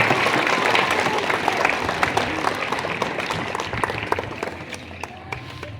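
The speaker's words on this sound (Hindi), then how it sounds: "एक बार जोरदार ताली लोग देते" Crowd at an outdoor public gathering in Lohardaga giving loud applause for a member of parliament, sustained clapping with sharp individual claps that gradually tapers off.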